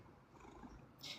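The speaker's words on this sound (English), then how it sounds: "Oh, you can hear him purring again?" A cat purrs very faintly and close by, a low, soft, pulsing rumble over little more than a second with no talk.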